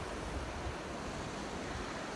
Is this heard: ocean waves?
yes